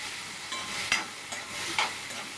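Tomato and onion sizzle and scrape in a pan with a steady frying hiss and a few soft stirring knocks.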